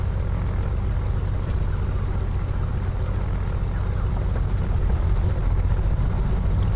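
A front aircraft engine starts and runs in Microsoft Flight Simulator, a steady loud low propeller drone holding evenly throughout with no speech.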